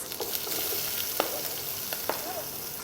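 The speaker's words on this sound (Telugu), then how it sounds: "ఆనియన్స్ కొంచెం ఫ్రై అయ్యేంత వరకు ఫ్రై చేయాలి." Onions frying in a pan with mustard seeds, cumin and green chillies, a steady soft sizzle with a few sharper pops and stirring scrapes, no talking.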